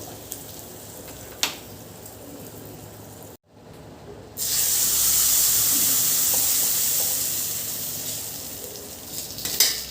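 Urad dal, dried red chillies and asafoetida hit hot oil in a tempering for peanut chutney, giving a sudden loud, steady sizzle that swells after a brief pause and holds to the end, with a few small clicks before it.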